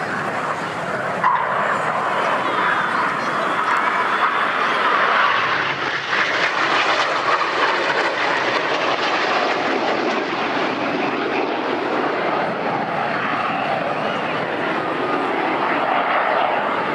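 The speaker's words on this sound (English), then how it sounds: "if you look to your right, you'll see a single jet. This is Red 9" Red Arrows display jets roar overhead at the Swansea Airshow, a loud, continuous broadband jet rumble and whoosh sustained throughout without pause, swelling slightly early on.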